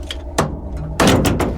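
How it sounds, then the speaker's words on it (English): A metal door on a spaceship in a Buck Rogers in the 25th Century episode, closing with a couple of sharp clanks and a heavy slamming impact followed by rattling, loud and close, with no talk. "Close the metal door."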